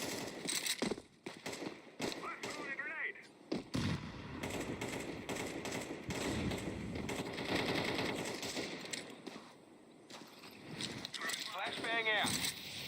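Decoy grenade in Counter-Strike 2 mimicking gunfire, giving rapid bursts of fake automatic shots mixed with other game noise, with voices talking over parts of it.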